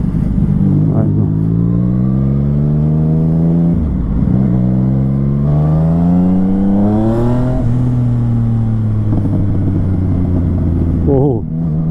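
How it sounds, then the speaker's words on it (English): A Yamaha MT-09 motorcycle engine revs up through rising pitches from first gear, dropping briefly between gears before climbing again, loud and close. "So let's try this motorcycle. I'm in first gear."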